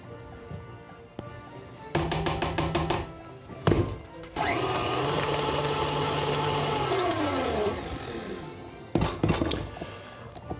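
An electric hand mixer creams butter, sugar and vanilla in a bowl for chocolate Christmas cookies, with a few short choppy bursts first, then one long steady whirring run that slows toward the end and finishes with brief pulses.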